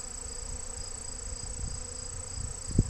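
Bees buzzing around a beehive under attack, a faint steady insect drone with a few soft bumps and knocks close to the hive, no talking.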